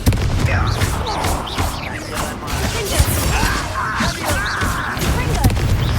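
Fiery Confringo spell blasts in Hogwarts Legacy boom and crackle amid clattering impacts and dense rumbling, loud and continuous throughout.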